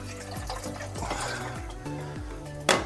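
A cup dipped into a reef aquarium sump, with steady running and trickling water throughout, a few soft gurgling dips and a sharper splash near the end.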